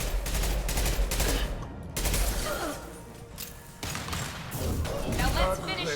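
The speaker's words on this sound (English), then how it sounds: "Firing an impact shot." Impact shot gunfire in the Mass Effect 2 video game on Insanity difficulty: loud, rapid volleys of shots that cut out briefly twice and resume, with sustained bursts filling the whole stretch.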